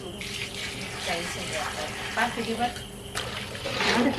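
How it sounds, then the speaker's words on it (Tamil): Hot water pours in a continuous splashing stream into a pot of goat head curry, a close steady gush that shifts in tone as it fills, with a voice speaking over it. "இப்போ வெந்நீர் நல்லா சூடாயிருக்கு இப்போ இதே வந்து தலைக்கறி குழம்புக்கு ஊற்றிக்கலாம்"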